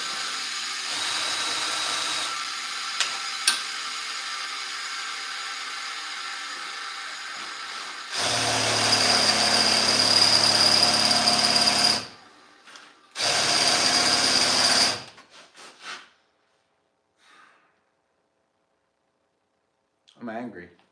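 A drill bit sharpener runs in two loud grinding bursts with a thin high whine, each a few seconds long, after a stretch of quieter background sound and followed by small clicks.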